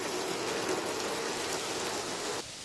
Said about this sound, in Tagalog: Sa Lawag, Ilocos Norte, pabugso-bugso ang ulan mula kagabi, kaya apektado ang ilang motorista.